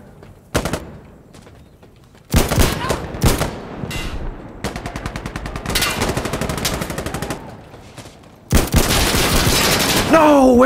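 Gunshots from an Insurgency Sandstorm match with a 1945 G.I. Joe loadout: a few sharp single shots, then repeated automatic bursts with rapid, evenly spaced reports, loud and close, separated by short quiet gaps.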